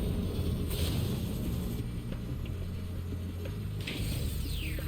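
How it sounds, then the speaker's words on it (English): Grinding, clanking gear machinery from the gear grinder factory in Spyro 2: Ripto's Rage (Reignited Trilogy) churns steadily with a low mechanical drone and ratcheting clicks, continuous and fairly loud, with no talk. "The switch to turn off the gear grinder factory is in that room"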